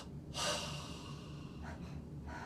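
A held breath is let go in one strong, airy exhale during a meditation breathing exercise, followed by a couple of softer breaths, close and quiet with no talking.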